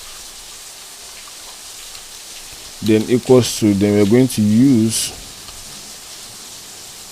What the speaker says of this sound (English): rain is falling right now over here